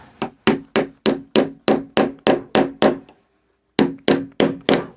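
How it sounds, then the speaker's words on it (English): A small hammer taps sharp-ended hangers into a wooden picture frame, with about a dozen crisp, evenly spaced knocks, a brief pause, then four more blows, close and loud with no talking. "I got this little hammer at a garage sale"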